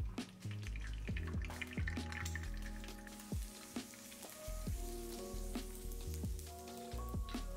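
An egg fried in a pan for a Vietnamese rice plate gives a quiet, crackling sizzle with scattered popping spatters and light drips, close and steady throughout, with no voices.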